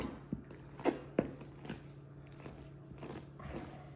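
A knife scraping fat off a piece of bone, heard as a few close, sharp scrapes and crunchy taps at an irregular pace over a quiet background.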